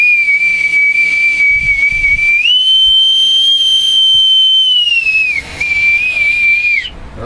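An authentic bosun's whistle pipes a long, shrill, steady tone close up, rising slightly in pitch midway, breaking briefly, then resuming before cutting off, with faint room noise beneath and no talking.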